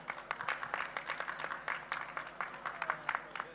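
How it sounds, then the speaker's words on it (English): Applause from a tradeshow audience for presenters, heard as soft, distant, fairly quiet clapping with a steady patter of hands and no speech. "So can we give them a round of applause"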